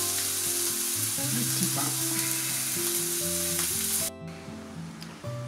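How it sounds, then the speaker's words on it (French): A burger steak grills in a pan with a loud, continuous close sizzle and crackle, while soft music plays underneath and a voice briefly speaks. "j'ai mis les steaks à griller"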